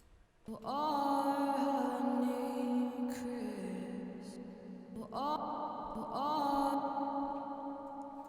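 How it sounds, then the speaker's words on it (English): An intense reverb effect in FL Studio washes over sustained tonal sounds, making long smeared echoing tails that swell, dip slightly, then swell again, loud and enveloping with no clear gaps. "reverb would sound like this if it's really intense"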